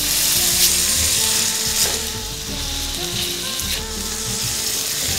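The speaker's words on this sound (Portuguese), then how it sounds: "Agora vamos refogar isso aqui." Butter sizzles and fries steadily in a pan as ingredients are sautéed for a pork loin stuffed with prunes, a continuous close hiss with faint scraping and stirring throughout.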